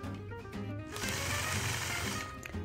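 A sewing machine stitches point-to-point lines between quilt blocks, first running at a slower pace and then breaking into a fast, loud, steady whir of stitching, heard close with no talk.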